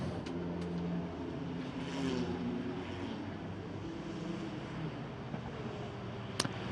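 FIA Formula Regional race cars at the Macau Grand Prix rolling down the pit lane during qualifying, a steady low engine drone at moderate distance with a brief sharper burst near the end.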